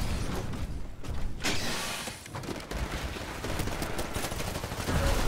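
Dense gunfire from the video game Titanfall, a sustained rattle of shots and mechanical clatter that stays loud and steady throughout with no talk over it.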